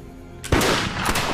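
Muskets fired in welcome at the end of an eighteenth-century frontier parley, a sudden loud volley that breaks from quiet and rolls on as a dense burst of overlapping gunfire.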